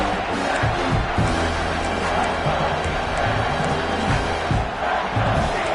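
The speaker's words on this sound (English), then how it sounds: "the crowd coming to life here, trying to help this defense down in the red zone" A college football stadium crowd roars steadily as the defense digs in near its own goal line, a dense, loud wall of cheering and yelling with occasional sharper shouts throughout.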